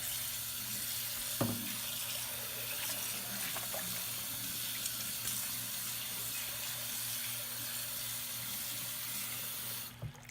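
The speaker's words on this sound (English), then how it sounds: "You rinse really well till all the bubbles go away" Tap water runs steadily into a sink, with occasional clinks and splashes as items are rinsed under the stream.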